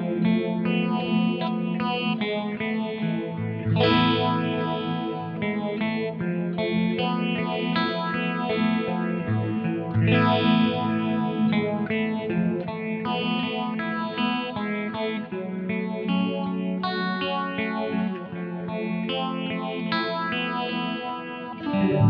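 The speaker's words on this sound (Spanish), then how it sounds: "ponerle un poco de reverb y delay" An electric guitar played through reverb and delay pedals on a pedalboard, sustained chords with a washy, dreamy, echoing shimmer, loud and continuous with no talk.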